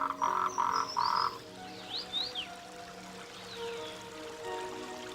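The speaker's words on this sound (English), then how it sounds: "the Maltrectes green tree frogs give mating calls day and night." Maltrectes green tree frogs give mating calls: a few loud, clustered croaking pulses up front, then fainter chirps and calls over a soft wet ambient backdrop.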